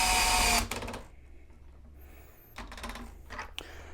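Cordless DeWalt or Ingco impact drill run in a torque test on speed level 3 with clutch at 1, giving a loud motor burst at the start and then a second, rougher whirring burst after a quiet pause.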